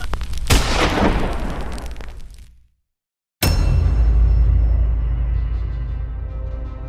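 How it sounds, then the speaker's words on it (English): A dramatic gunshot sound effect set in a concrete bunker: an earlier boom fades into complete silence, then a single sharp, loud crack bursts out and rolls into a long, echoing rumble. "A single gunshot echoes through the concrete veins of the Führerbunker."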